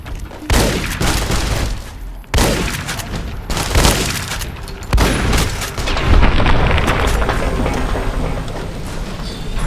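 A rapid series of sharp gunshots and booms from the video game Fallout: New Vegas bursts out, loud and close, in irregular clusters over a dense rumbling background.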